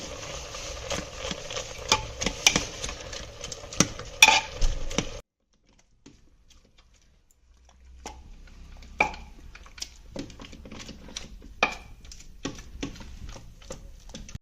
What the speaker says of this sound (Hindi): अब हमें इसको अच्छे से मिक्स कर लेना है